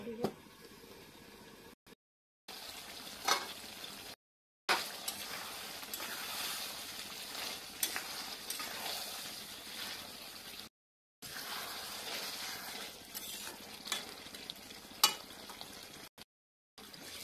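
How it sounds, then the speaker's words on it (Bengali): Chicken being stir-fried for kosha in a pan, a faint, steady sizzle with soft stirring scrapes, broken by short silent gaps. "চিকেনটা একটু কষিয়ে নেব, ভালো করে কষাবো।"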